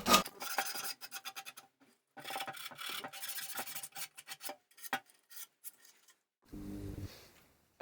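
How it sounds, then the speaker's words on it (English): Splintered edges of a handmade wooden product are sanded by hand in quick, close, raspy scraping strokes that come in bursts with short pauses, ending in a brief quiet gap and a faint tonal hum. "you don't have to sand it all the way down. Just the splinters of it"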